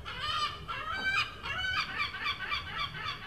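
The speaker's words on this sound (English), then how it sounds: "While the seagulls make freaky noises" Seagulls give a run of harsh honking calls, repeated squawks close by and fairly loud, coming in quick uneven bursts over a low background rumble.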